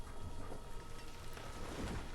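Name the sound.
rain in the video game Banished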